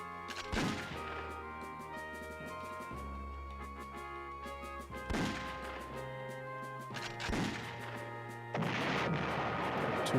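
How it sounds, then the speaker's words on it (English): Artillery bombardment in the PlayStation 1 strategy game Panzer General: several heavy booming blasts land in turn over a steady game music bed, each a loud crashing impact with a rumbling tail, the last one leading into denser noise. "Two artillery bombardments on Florina."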